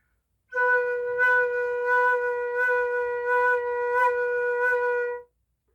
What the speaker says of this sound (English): you can practice this by taking a B and maybe playing 8 or 12 vibrato hits on it,